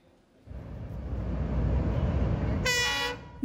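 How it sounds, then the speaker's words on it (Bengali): A test train crosses the new rail bridge over the Jamuna at about 120 km/h, its rumble swelling from quiet into a loud, sustained roar before a sharp horn blast cuts in near the end. "ঘন্টায় 120 কিলোমিটার গতিতে ট্রেন চালাচ্ছেন প্রকৌশলীরা"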